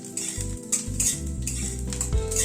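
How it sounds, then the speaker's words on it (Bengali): Garlic and green chilli frying in ghee are stirred in a pan, with a spoon scraping and clinking against the metal in quick strokes over a soft sizzle, close and clear with no talking. "রসুন আর কাঁচা লঙ্কাটাকে প্রথমে একটু নাড়াচাড়া করে নিচ্ছি।"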